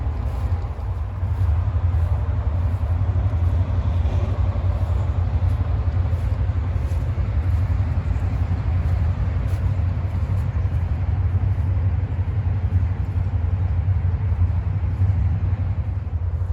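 A Shelby car engine drives past with a steady, loud low rumble that holds throughout without a break, with no talk over it.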